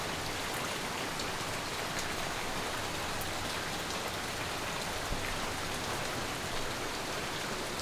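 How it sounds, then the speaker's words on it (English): Heavy rain falls steadily at a campsite beside an outdoor onsen, a dense, even hiss of countless drops pattering on surfaces, constant and unbroken with no voices. "I love the atmosphere of like the rain"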